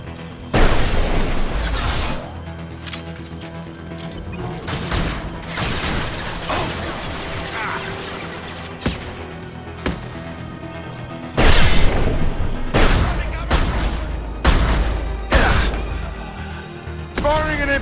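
Heavy impact shot blasts from the video game Mass Effect 2: several loud booming explosions with crashing debris, two big bursts standing out near the start and midway, each followed by rumbling decay, with brief talk between.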